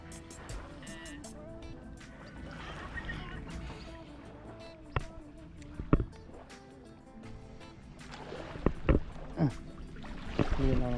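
Boat ride on the water in a small Philippine bangka near Claveria, with a low engine drone and water wash running throughout, occasional knocks and splashes, and people chatting over the steady noise.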